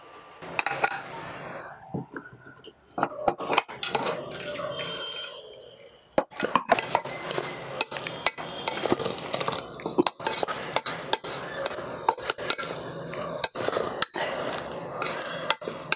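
Cooked beetroot being stirred in a bowl for palya, giving continuous scraping and irregular metallic clinks of a spoon against the bowl, close up, with soft clicks scattered throughout.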